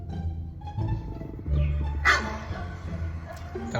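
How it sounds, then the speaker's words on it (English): A dog barking sound effect plays as a few yipping barks. They are mid-loud and somewhat close, with light background noise. "A dog?"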